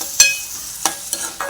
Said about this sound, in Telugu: ఇప్పుడు దీన్ని మనం మంచిగా కలుపుకోవాలండి